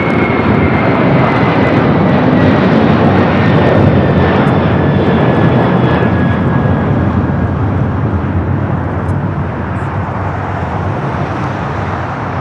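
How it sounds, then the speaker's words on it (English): An Atlas Air jet airliner passes at LAX, a loud, broad engine roar with a faint descending whine, steady and close throughout, slowly easing off toward the end, no talk. "That is Atlas Air Flight 9904."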